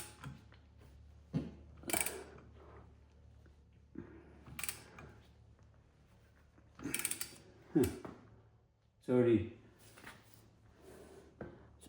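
Crank bolt being turned on an LT1 engine during a build: intermittent metallic clicks and ratcheting clunks, close by, separated by quiet pauses with occasional low speech.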